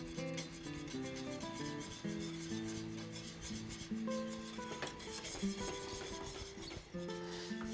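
A spoon scrapes and rubs around the bottom of a pot as cocoa is worked into thickening custard for chocolate pudding, a continuous close stirring rasp with faint tonal music beneath.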